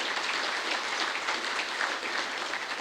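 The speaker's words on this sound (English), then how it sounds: "A round of applause there, please." Steady applause fills a conference hall at the Rural Water Conference 2023 during an awards announcement for group water schemes, a dense, even wash of many hands clapping, moderately distant and unbroken, with no voices on top.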